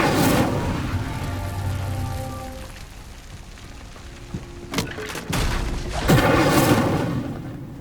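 Incendio fire spell cast repeatedly in Hogwarts Legacy, a run of loud whooshing fiery bursts and booms with sharp impacts near the middle and a strong blast toward the end.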